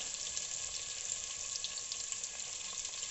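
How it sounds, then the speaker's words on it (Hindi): Potatoes fry in a pan for an aloo palak dish, giving a steady, dense sizzle that stays even and close throughout with no voices. "आलू हम तकरीबन 5 मिनट तक फ्राई करेंगे।"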